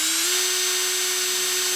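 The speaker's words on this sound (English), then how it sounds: "it's a good idea to drill it out with a 1mm hole before" A small drill bores a 1mm hole ahead of stitching while building a Wimshurst machine body. It makes a steady, continuous high-pitched whine, close and unbroken, with no talking.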